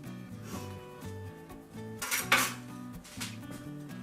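A pot of hot milk just off the boil on a stove is covered, giving a clattering metal lid clink with a sharp bright clatter near the middle, over a background of soft music-like tones.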